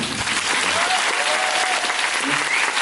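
Audience applause fills a theatre at the final curtain call of the musical Bare, a dense, steady roar of many hands clapping throughout at close range.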